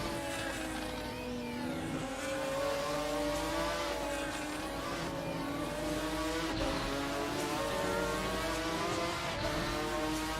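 A Ferrari race car in a racing video game corners hard at Mugello, its engine a steady high-pitched whine with shifting tones, loud and continuous with no voices.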